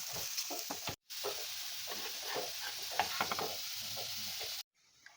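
Vegetables frying in a pan for a paneer roll, giving a steady close sizzle with repeated scraping stir strokes, cut off briefly twice by sudden silence.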